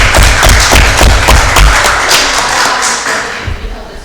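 People at a homeowners association board meeting clap, uneven thumping claps close by that start loud and thin out over about four seconds, with table knocks mixed in.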